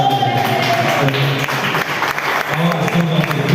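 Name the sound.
congregation applauding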